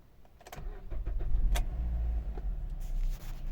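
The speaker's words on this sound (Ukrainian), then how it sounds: "мотор чітко працює" A 2011 Mazda 6 Sport with a 2.0 engine cranks and catches, then settles into a steady low idle with a few clicks and rattles near the start.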